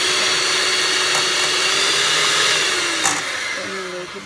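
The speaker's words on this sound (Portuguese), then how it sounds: "E vamos bater na batedeira." An electric stand mixer whirs steadily at close range, beating cream for a coffee pavê, with a continuous motor hum that eases slightly near the end.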